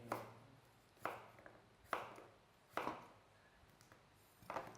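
Slow, regular knife chops on a cutting board, cutting vegetables into large chunks for curry, about one per second, crisp thuds heard close up with quiet between strokes.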